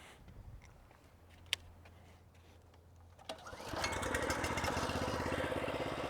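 A reel mower starts cutting across a sloped lawn, a faint rattle at first, then a steady, fairly loud whirring chatter of spinning blades that carries on without a break.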